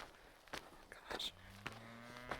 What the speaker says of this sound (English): There's literally cows on the trail and I'm not really sure what to do.